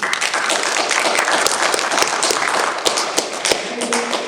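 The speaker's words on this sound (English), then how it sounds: "Round of applause, please." Applause and clapping from an audience at a school district board meeting, a dense, steady patter of hands with sharp individual claps standing out, loud and close, holding for several seconds with no speech.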